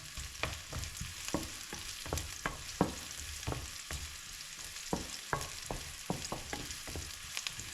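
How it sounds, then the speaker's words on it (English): Onions sizzle steadily while frying in a pan for a Caribbean-style curried beans and corned beef dish, with sharp clicks and scrapes of stirring scattered throughout at close range. "So I'm frying the onions a bit here."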